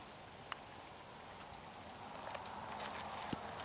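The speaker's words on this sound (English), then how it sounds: "it's raining out" Steady hiss of rain falling on a disc golf course in Morristown, Tennessee, with scattered drop impacts and faint knocks over a constant wash of noise, no voices.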